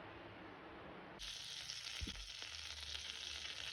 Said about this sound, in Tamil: பாருங்கள், பேனில் பட்டர் போட்டிருக்கேன்.